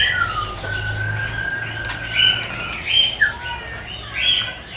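Caged birds at a bird market chirp and whistle in short bright calls over a low background hum, several songs overlapping near and loud, with no voices.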